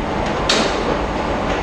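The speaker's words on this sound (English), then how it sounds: "My first metro has arrived." Metro train at a station on a trip between Madrid and Porto, a loud steady rumble with a brief hissing burst partway through, like brakes or doors, no talk.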